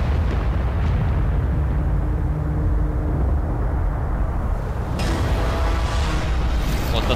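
Deep rumbling blast from the Aliens vs. Predator video game, a dense low roar filling the whole stretch with a brighter burst of debris-like noise near the end; no talking.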